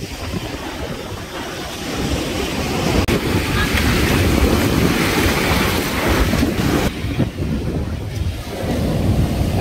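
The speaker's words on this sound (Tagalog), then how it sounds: "kung gaano kalaki lang yung maalon" Ocean waves at the beach, a loud, continuous wash of surf mixed with wind buffeting the microphone, swelling slightly midway through.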